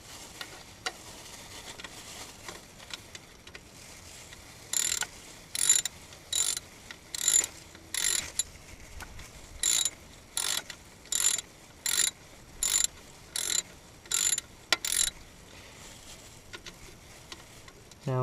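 A ratchet wrench snugs the alternator bolts on a 1992 Jeep YJ four-cylinder, producing repeated bursts of crisp ratcheting clicks in a steady rhythm, close and alone.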